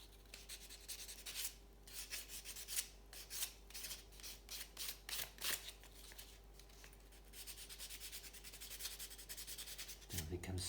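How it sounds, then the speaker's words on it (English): Sanding a 1:64 Hot Wheels Fiat 500 Abarth 695 die-cast car, close, quiet rasping strokes in a quick back-and-forth rhythm, alternating bursts and steadier rubbing. "You need to sand these things thoroughly"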